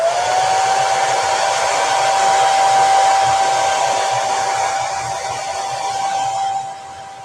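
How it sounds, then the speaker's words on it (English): Hair dryer blowing on a chalk craft wall banner, a steady close whine and rush of air that holds evenly before easing off near the end. "I'm going to blow dry this a little bit."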